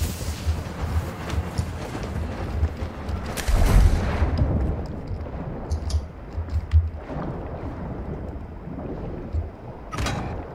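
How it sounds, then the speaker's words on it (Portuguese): A molotov cocktail thrown in Call of Duty MW3 bursts loudly near the middle, a broad whooshing crash over a constant rumble of distant gunfire and battle noise. "Mandando o molotov."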